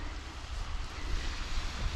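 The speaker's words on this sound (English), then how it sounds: "All you hear is bird life and the waves crashing." Waves crash and wash on the shore along the coastal road of the Isle of Arran, a steady rushing roar with a windy edge and no clear breaks over the couple of seconds.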